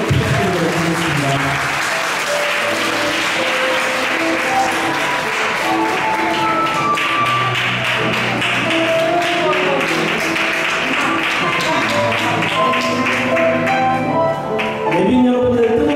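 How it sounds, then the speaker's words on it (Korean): Wedding guests applaud together for the bride and groom during a Korean-style wedding ceremony, a steady, continuous wash of clapping that holds for the whole stretch while music plays underneath. "여러분의 큰 박수 부탁드리겠습니다."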